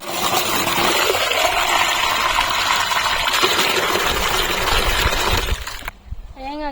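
Water gushes steadily and close by during a village Bonalu festival ritual for the goddess Pochamma, poured over feet, then cuts off abruptly near the end, with a voice briefly heard after.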